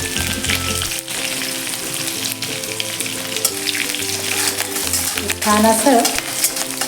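Green chilli and curry leaves fry in hot oil for an upma, a loud, close, continuous sizzle with bursts of crackle and occasional stirring knocks, while background music plays and a voice speaks briefly.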